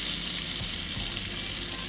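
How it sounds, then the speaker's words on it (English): Cheese searing in a hot pan over a campfire on a boat camping trip, a dense, loud, unbroken sizzle heard up close for a couple of seconds. "you want to get this cheese partially melted and kind of searing to the pan so that it doesn't start to stick"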